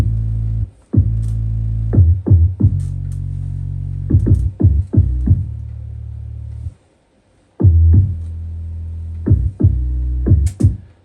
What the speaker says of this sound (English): Only the bass sound like this.